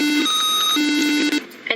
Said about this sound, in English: The alarm would stop ringing.